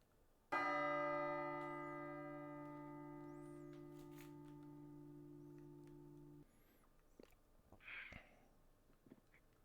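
A single deep bell in a role-play video game strikes once, loud and near, with a rich ringing tone that sustains for about six seconds before cutting off, followed by faint background noise and a short distant chirp.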